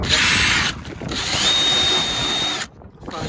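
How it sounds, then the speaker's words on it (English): A power drill with a countersink bit bores into wood for a campervan bench seat: loud, steady whirring close by, with a short break near the middle and a drop-off near the end. "I'm just using a little countersink with a drill. Just going to drill in."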